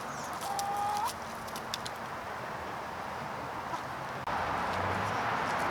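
Chickens cluck softly in the cold early morning over a constant hiss of background noise, with a few brief higher calls near the start.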